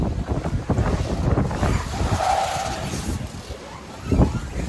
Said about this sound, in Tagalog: Kasi sobrang lalaki ng mga alon mga idol.